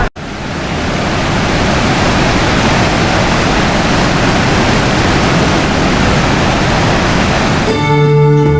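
Fast-flowing river water at Panchavati, Nashik rushes in a loud, steady roar that stays constant and dense throughout, with no voices.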